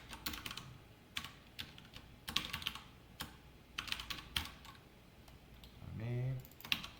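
Code is typed on a computer keyboard in uneven clusters of crisp, close key clicks with short pauses between them, and a brief voice near the end.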